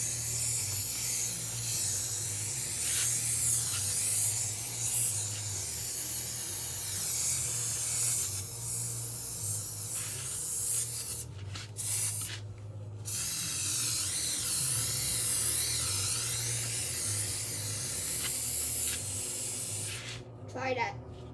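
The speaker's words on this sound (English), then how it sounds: "Time was spraying it like crazy." Trim Shine spray hisses out in long, continuous bursts onto a boat, close and prominent, with a couple of brief pauses midway and a cut near the end over a low steady background hum.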